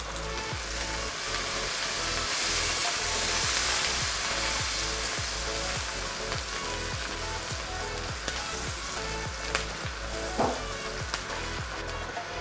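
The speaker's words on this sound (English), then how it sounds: "Now I'm adding in curry leaves." Curry leaves and chopped onions sizzle steadily in hot oil while sautéing, a continuous close frying hiss with faint stirring taps, no voices over it.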